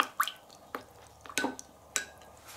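A spoon taps and clinks inside a cup of honey water as it is stirred, making four or five light, irregular strokes close by in a quiet room.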